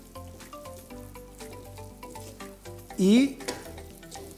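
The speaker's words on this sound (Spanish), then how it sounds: "con mucho movimiento para evitar que se pegue al sartén y ya se va cocinando" Funche de chorizo cooks in a frying pan with a quiet, steady sizzle under rhythmic stirring scrapes, while someone talks over it and a brief louder whooshing noise rises near the middle.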